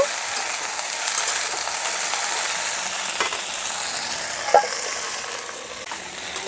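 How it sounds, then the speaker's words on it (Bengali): Mixed vegetables for Bengali shukto lightly frying under a lid in a pan over low flame, a steady close sizzle and crackle with a few small pops. "এখন সবজিগুলোকে হালকা ভেজে নিতে হবে আমি ঢাকা দিয়ে সবজিগুলো ভেজে নিচ্ছি"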